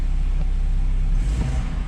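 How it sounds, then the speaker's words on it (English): A BMW 2 Series F22 engine turning over and settling into a steady low idle, a loud close rumble with a brief surge near the end and no talking. "Right now the car is starting."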